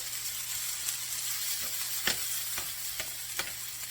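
Scattered hash browns frying on a griddle give a steady, close hiss and crackle, with a few light scraping taps from a spatula pressing them down, and no talking.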